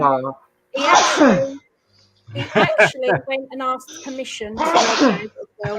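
A single sharp sneeze bursts out during relaxed conversation among several people, close to the mic and loud, followed by continued casual talk.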